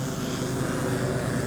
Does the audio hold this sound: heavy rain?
no